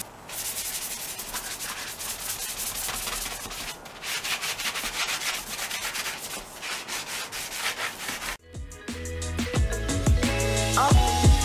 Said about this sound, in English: I'm going to be using the rough side of a sponge.